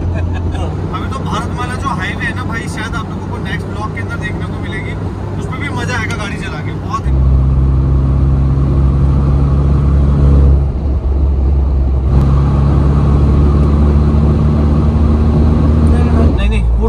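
A Mahindra Thar petrol SUV drives on the highway from Jaipur to Jaisalmer, its loud, steady engine and road drone deepening partway through. People talk throughout.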